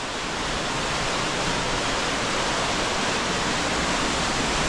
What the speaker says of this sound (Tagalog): Lakas ng tubig. Yung tunog ng tubig, ang lakas.